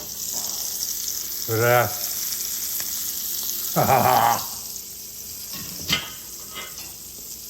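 Steak sears in butter in a cast iron pan inside a VEVOR two-burner indoor electric pizza oven, a steady loud sizzle running throughout while someone speaks in short bursts over it.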